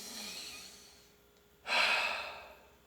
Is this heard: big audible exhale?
yes